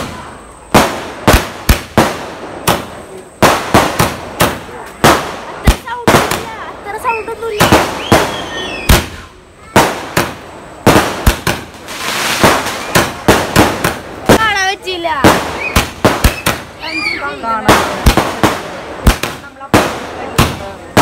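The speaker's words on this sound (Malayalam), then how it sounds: "മറ്റേ പടക്കൊക്കെ പൊട്ടിച്ചു, ചൈനീസ് പടക്കോ സംതിങ്" Chinese firecrackers burst in the air at a birthday celebration, a loud, dense run of sharp pops and bangs in irregular rapid succession, with people's voices heard between the blasts.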